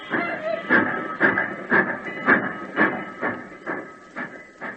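A steam locomotive chuffs in a steady rhythmic beat of hissing exhaust puffs, about two per second, close and strong with a continuous tonal ring beneath.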